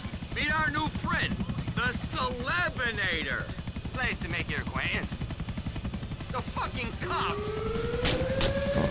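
A police helicopter in GTA IV thrums with a steady rapid rotor chop throughout, under excited talking, with a rising siren-like wail near the end.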